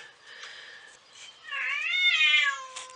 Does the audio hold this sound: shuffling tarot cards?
no